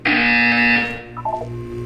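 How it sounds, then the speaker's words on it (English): A loud, harsh electronic buzzer from the Portal 2 video game sounds steadily for most of a second, then cuts off, followed by a short series of softer tonal blips. "You will hear a buzzer."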